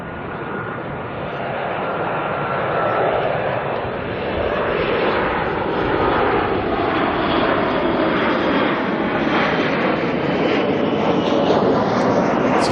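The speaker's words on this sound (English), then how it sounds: "Two new Qantas flights from Auckland, launched on the same day, and here they are." A Qantas jet airliner at Auckland Airport roars steadily for the whole stretch, a broad, constant engine rumble that swells slightly early on and holds loud and close, with no talk over it.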